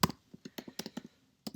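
Computer keyboard typing a short command, a quick run of crisp key clicks in uneven bursts followed by a brief pause and two final taps, close and clear with no talking.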